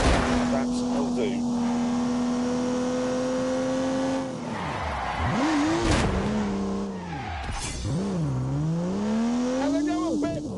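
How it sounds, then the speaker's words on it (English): Turbocharged 3-litre straight-six car engine in The Grand Tour video game, a loud steady drone that drops and climbs through revs with shifts, tire squeal, and a voice talking over it. "unleashed 360 rampaging horsepowers from the turbocharged 3-litre straight six"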